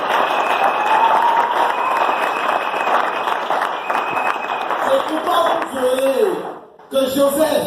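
A church congregation at a French-speaking worship service claps and cheers in sustained, loud applause, with a voice calling out over the crowd before the noise briefly drops near the end.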